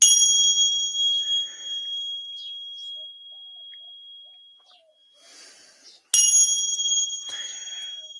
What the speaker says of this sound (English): So, I cleanse my cards and my space with sound, ting-shot bells.